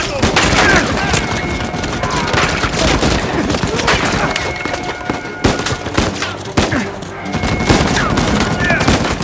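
Constant gunfire in Uncharted 4: A Thief's End during a firefight, loud rapid bursts of automatic shots and heavier booms that barely let up, with players talking under the din.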